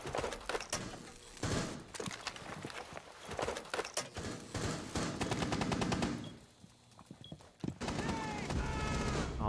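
Rapid gunfire in Rainbow Six Siege on console, with repeated bursts of automatic fire, sharp single shots and footsteps, layered under a player talking throughout.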